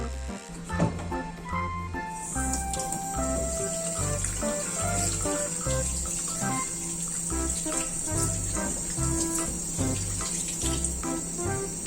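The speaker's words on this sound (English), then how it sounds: "we need to wash our hands with soap and water" Tap water runs steadily for washing hands with soap, a continuous hiss beneath louder, prominent background music.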